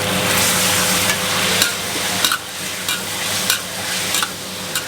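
Steady sizzling as chicken is stir-fried in a hot pan, with occasional scraping and stirring clatter from a utensil, continuous and fairly close.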